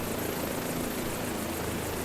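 Steady, loud aircraft engine drone with rotor-like texture from military helicopters near a newly deployed missile site, filling the whole stretch without pause or voices.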